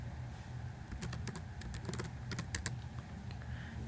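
Rapid typing on a computer keyboard, a close run of light key clicks with uneven rhythm and a few louder taps.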